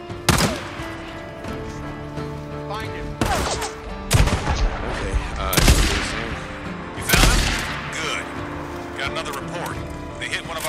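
Rapid gunfire in a Days Gone shootout: several sharp, loud bursts and single shots spaced unevenly across the clip, with a sustained mechanical drone running underneath.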